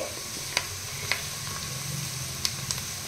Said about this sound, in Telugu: ఈ కాజు చక్కగా గోలాలి, వేగాలి.